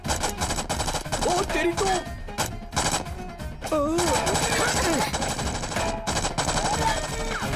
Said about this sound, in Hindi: चलो गोली चलो भाई, गोली चलाओ।